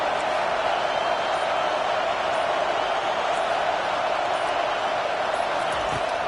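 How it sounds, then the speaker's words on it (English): A stadium crowd in the College Football 25 video game roars in a steady, unbroken wash of noise for the whole stretch, with no clear peaks or breaks. "this crowd trying to help keep them there"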